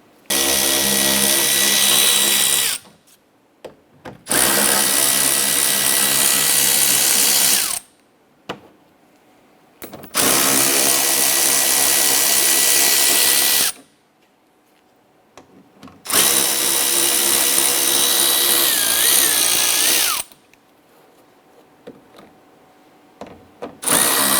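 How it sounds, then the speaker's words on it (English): A power driver spins out 7mm screws from the wheel well liner along the bumper edge of a 2015-2020 Cadillac Escalade, four loud, sustained ratcheting whirs separated by short pauses, close up with no talk. "remove the series of 7mm screws securing the wheel well liner to the edge of the bumper"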